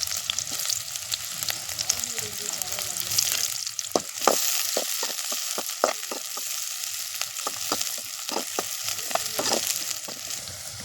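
Mustard seeds and dried red chillies fry in hot oil for a spinach stir-fry, giving a steady close sizzle broken by a quick run of sharp popping crackles, with no talking.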